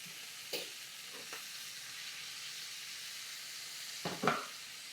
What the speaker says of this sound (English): We're going to go ahead and drop just a little bit of butter in there